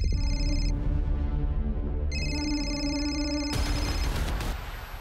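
Phone ringback tone on speakerphone after a number is dialled from a police station, a steady repeating ring pattern heard alone, close and clear, before the call is answered.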